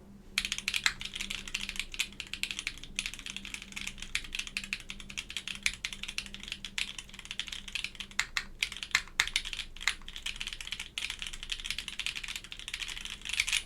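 Typing on an ETAR87 mechanical keyboard with long pole stems, a steady stream of quiet, crisp keystrokes close by with no talking.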